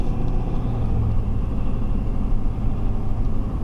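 A Ford F350 Powerstroke diesel engine with about 100,000 miles rumbles steadily and loudly from inside the pickup truck, a deep continuous drone with no talking.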